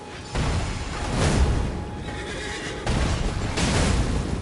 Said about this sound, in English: Looks like we have a horse